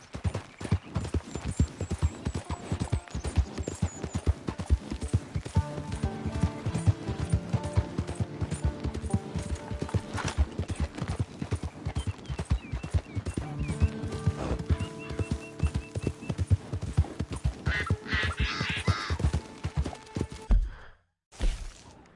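Horse hooves pound in a steady rapid gallop in Red Dead Redemption 2, close and continuous, with occasional clattering and a brief break near the end.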